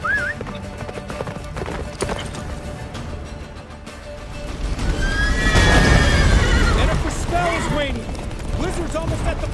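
Geralt's horse Roach in The Witcher 3 video game neighs and whinnies over steady galloping hoofbeats, with game music and ambience filling the background and a voice speaking briefly.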